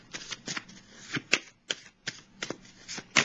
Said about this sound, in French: Je vais déposer une carte sur la carte de l'univers.